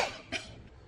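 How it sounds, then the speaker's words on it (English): A single woman's cough, a short close throaty burst at the start and a smaller one shortly after, faint and alone. "Don't know why I started coughing again today."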